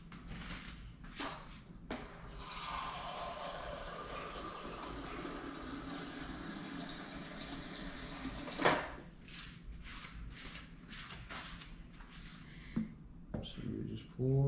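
Filtered water from a refrigerator dispenser pours into a baby bottle sterilizer and dryer in a steady, gushing stream lasting several seconds, followed by clicks and handling noises, with someone talking at times.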